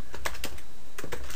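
Keys on a computer keyboard are struck in a quick, close burst of crisp clicks with short pauses between groups, heard alone and fairly loud.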